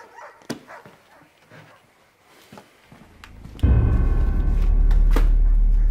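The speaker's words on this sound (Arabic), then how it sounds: "كلاب." Dogs bark in scattered, sharp bursts, some near and some farther off, before a loud low rumble swells in and continues beneath a few more barks.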